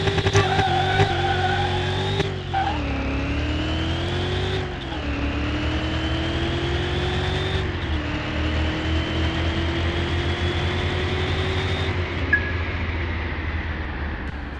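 A video game car engine from Car Mechanic Simulator 21 roars through a drag race, loud and close, climbing in pitch through several gear shifts with brief dips between them.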